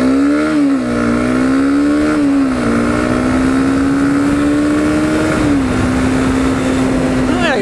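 A Honda CBR300R sport motorcycle revs and accelerates with a loud, rising whine, the pitch climbing and dipping as gears shift, close and continuous.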